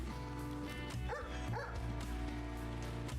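A dog barking in the video game Bloom Town, two quick yips heard faintly beneath loud continuous game music.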